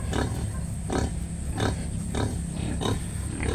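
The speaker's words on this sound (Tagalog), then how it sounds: "Yan ang ating mga bagong panganak na inahing baboy. Pinapadidi na nila ang kanilang mga biik." Newly farrowed sows nurse their piglets in a farm pen, with rhythmic grunts about every half second over a steady chorus of piglet squeals, loud and close.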